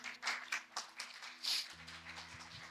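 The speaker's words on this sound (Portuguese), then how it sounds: "Você pode aplaudir o Senhor?" A church congregation at a conference service applauds, with irregular bursts of hand claps spread over a low sustained tone from the sound system, fairly faint and distant.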